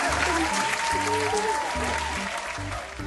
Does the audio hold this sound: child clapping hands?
yes